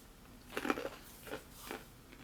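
Crunchy honey-coated peanuts from a Swedish combat ration being chewed, several quiet, close crunching bites in an uneven rhythm against a faint background.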